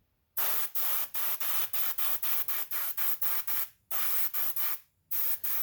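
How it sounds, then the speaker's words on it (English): A single-action Paasche H airbrush sprays paint onto a model AMT Freightliner dump truck in a rapid run of short, even hissing bursts, close and steady, with two longer pauses and no talk. "I've had this airbrush and these type airbrushes going back to about 1988 or 89."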